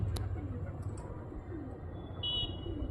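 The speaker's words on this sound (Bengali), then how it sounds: "কত পায়রা এসে বসে আছে খাওয়ার জন্য।" Soft, low pigeon coos murmur nearby amid light background noise, with a faint higher chirp or two.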